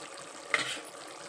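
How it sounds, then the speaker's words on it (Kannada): Spiced masala for palak rice simmers and bubbles in a cooking pot, a soft continuous sizzling hiss with one brief louder splutter midway, heard up close. "ನೋಡ್ರಿ ಈ ಥರ ಮಸಾಲೆ ಕುದಿ"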